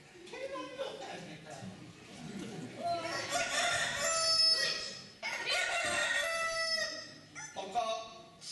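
Rooster crow imitated by a performer in a Ukrainian amateur stage play, rising harmonic calls repeated a few times amid loud stage voices and dialogue.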